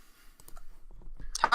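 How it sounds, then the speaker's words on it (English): Short bursts of typing and clicking on a computer keyboard, sparse taps building to a louder cluster at the end, close and without talk. "Who are you typing to?"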